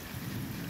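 Heavy rain pours steadily in Guajará-Mirim, Rondônia, a dense continuous roar with low thunder rumbling underneath, loud and unbroken throughout with no voices.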